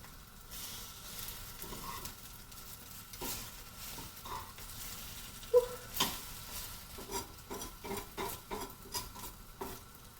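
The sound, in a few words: egg French toast sizzling in a pan after flipping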